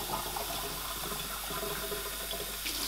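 Beer glasses are rinsed under a running water tap, a close, steady splashing hiss of flowing water with small shifts as the glass moves through the stream.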